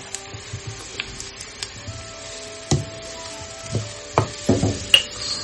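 Onion and boiled potato frying in a pan for poha, with soft crackling and a run of spatula scrapes and clicks against the pan that get louder toward the end.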